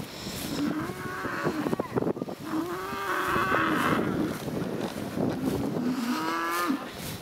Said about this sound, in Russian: А этот у нас самый такой свирепый бык.